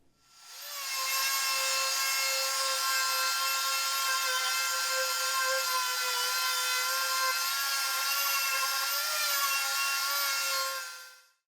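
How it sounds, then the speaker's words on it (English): A mouse sander works wood on a Shop Fox downdraft sanding table, a steady, loud whining buzz that starts abruptly, holds evenly for about ten seconds with a slight pitch wobble, then cuts off. "I'm going to try the downdraft table with my mouse sander here"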